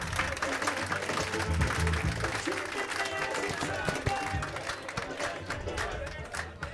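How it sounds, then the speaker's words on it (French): Audience applause at a school friendship-association ceremony in Thiès, a dense steady wash of clapping with murmuring crowd noise running throughout, loud and close, no clear gaps or speech. "Les applaudissements pour l'ASC."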